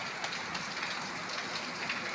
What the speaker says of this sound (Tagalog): Napakaulan po sa labas.